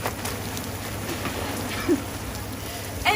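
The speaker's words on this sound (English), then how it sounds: "right now we're documenting some acid rain, and I think there's some hail too" Steady rain patters over a forest in East Texas, a dense hiss with a few sharper ticks that may be hail striking nearby surfaces.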